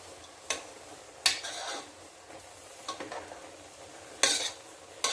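Avial with jackfruit seeds and drumstick being stirred in a pan: quiet background sizzle broken by several sharp spoon-against-pan scrapes and clinks at irregular intervals, close by.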